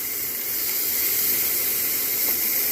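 Whole rainbow trout dropped into a hot pan, giving a steady, loud, broad sizzling hiss that holds evenly without a break.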